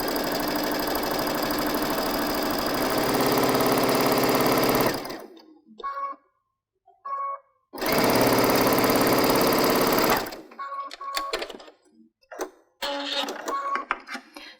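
A home sewing machine stitches fabric strips for patchwork quilting, chain piecing one pair after another: two long, loud bursts of steady motor hum separated by short pauses with faint clicks and handling noises.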